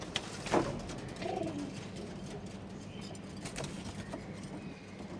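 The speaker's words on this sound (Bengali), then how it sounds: "এই কবুতরটা আমার কাছে খুব ভালো লাগছে, এটাও ভালো লাগছে।" Pigeons in a home loft of about two dozen birds give a brief low coo early on against a faint, steady background hiss, soft and somewhat distant.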